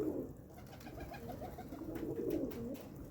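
A turtle dove coos softly nearby in a few low, repeated rounded calls against a faint background.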